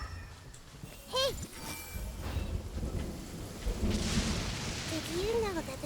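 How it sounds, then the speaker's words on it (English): Thunder rolls through the Genshin Impact game world with rain, a deep rumble swelling and fading under brief in-game voices and effects. "Did you know that the sound of thunder is the prelude to new life?"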